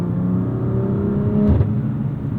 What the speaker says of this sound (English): the turbos, the spooling up, the lag that comes with that